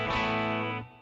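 A single sustained chord on an electric guitar through a Fractal FM3 amp modeler, with the gain turned low, rings out with a gritty, buzzing distorted tone, then fades quickly near the end.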